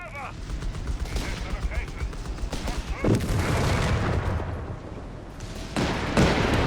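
MG42 and Vickers machine guns fire in a Company of Heroes 3 battle, with rattling bursts and sharp cracks that crowd together into dense, uneven volleys with no pauses.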